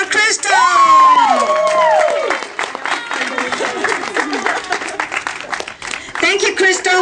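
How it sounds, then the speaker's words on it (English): Audience applause and cheers for a model walking the runway at a modeling show. A loud burst of clapping and whoops opens the clip, then settles into steady applause with shouts and voices mixed in, and it swells again near the end. "Let's give him a big applause for Crystal."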